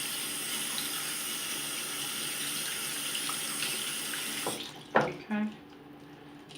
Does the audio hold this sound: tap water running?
yes